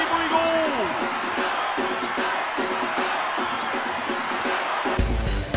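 A stadium crowd cheers and chants in the Winning Eleven 97 soccer video game during a Kashima Antlers vs Kyoto Purple Sanga match. The dense roar is loud and steady throughout, with rhythmic chanting in it.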